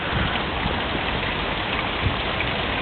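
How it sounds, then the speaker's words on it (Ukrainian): Water from a cleaned spring feeding a lake in Ukraine flows in a steady, dense splashing wash, loud and close with no pauses. "Видно, як тече водичка."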